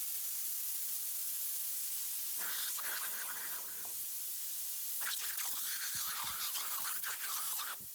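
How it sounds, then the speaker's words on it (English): Aerosol spray hissing and igniting to inflate a tractor tire, heard as two loud bursts of hissing and whooshing, the first brief and the second longer with a roaring rush, over a steady background noise. "These guys instantly inflate their tractor tire by using an aerosol spray and some fire."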